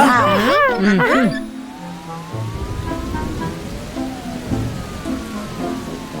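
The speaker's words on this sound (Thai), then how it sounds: "น่าเบื่อจริง ๆเลยที่ฝนตก" Rain patters continuously in a children's cartoon about toy trucks at a wet playground, a steady close hiss that follows a brief burst of high animated cartoon voices at the start.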